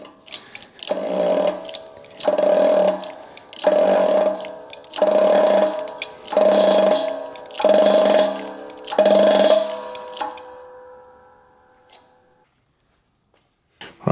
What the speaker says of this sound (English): I'm going to have to use this big 3/4 inch drive socket so it goes over the shaft